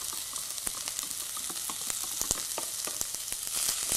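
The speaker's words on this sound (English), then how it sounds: "And I'm going to saute these onions." Onions sizzle and crackle steadily in a hot pan, with dense popping spatters throughout and no voices.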